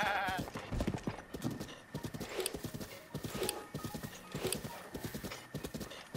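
Hooves clop rhythmically as a horse walks in Zelda: Breath of the Wild, a steady close series of footfalls with a brief whinny-like tone near the start and game ambience underneath.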